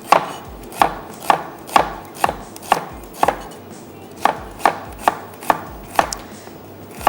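Steady knife strokes chop onions on a cutting board in a home kitchen, about a dozen crisp, evenly spaced thuds, close and clear with no talking.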